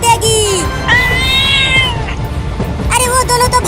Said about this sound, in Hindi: 2 बिल्लियाँ ट्रेन की लाइन पर है और ट्रेन जा रही है उनके पास।